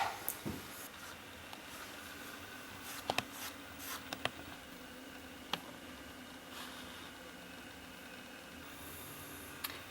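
Pencil writing on paper while Berber alphabet letters are drawn by hand, a quiet, steady scratching with a few sharper ticks and taps, close and soft, no talking.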